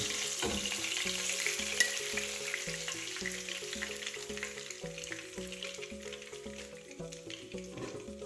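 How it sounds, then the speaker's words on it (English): Cod fish frying in oil Caribbean style, a steady close sizzle and crackle of fried fish running throughout with a faint repeating background tune underneath. "So we're just going to fry it as it is."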